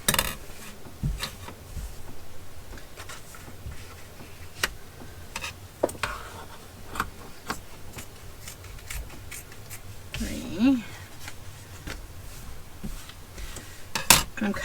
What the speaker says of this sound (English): I'm kind of just hacking at this fabric because I'm not using my fabric scissors